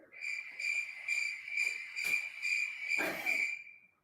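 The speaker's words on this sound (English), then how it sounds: "You might hear crickets." Crickets chirp outdoors in a steady high trill that pulses in regular bursts about twice a second, fairly close and clear, with faint background rustle and no talking.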